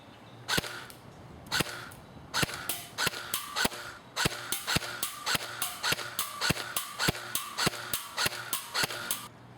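A JG M4S airsoft AEG fires at a satellite dish from 50 feet: about twenty sharp, close shots in an uneven semi-auto rhythm. Some come in quick pairs and others after short pauses, with no talking.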